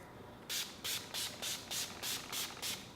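Eight quick, evenly spaced spritzes of a makeup setting spray bottle, each a short hissy burst, close and fairly loud with brief pauses between.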